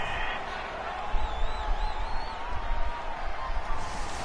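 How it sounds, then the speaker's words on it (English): A video game football stadium's home crowd roars steadily after a fourth-down flag on an incomplete pass, a broad continuous cheer with a whistle-like tone and a brief swell near the middle. "This home crowd, they're happy with that call."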